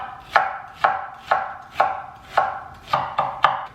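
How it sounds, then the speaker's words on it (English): A kitchen knife dices an onion on a cutting board while prepping a bacon jalapeño smash burger: about eight crisp, evenly spaced chops, close and clear with no talking. "So just like you would any onion, you just want to go ahead and cut it up and start dicing it as small as you can."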